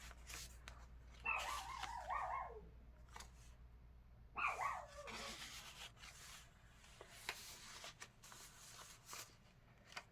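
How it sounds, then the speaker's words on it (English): A small Pomeranian and a Pomeranian-Yorkshire Terrier mix play indoors, with two short bursts of yappy barking and scuffling close to the microphone, followed by quieter rustling. "so they're playing together and barking."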